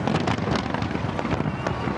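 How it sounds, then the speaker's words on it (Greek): New Year fireworks over the Acropolis in Athens, a dense continuous crackle of bursts and pops, loud and steady throughout. "Τα πυροτεχνήματα με φόντο πάντα τον Ιερό Βράχο της Ακρόπολης φώτισαν τον Αττικό ουρανό"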